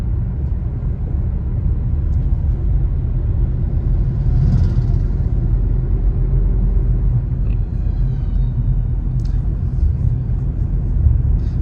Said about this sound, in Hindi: अब मैं गाड़ी को थोड़ा सा पुश कर रहा हूँ, यानी कि रेस दे रहा हूँ।